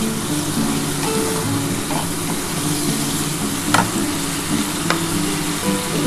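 Spiced masala fries in oil in a pot for a potato curry with lentil fritters, cooked until the oil separates, a constant close sizzle with a few sharp scraping stirs over a low steady hum.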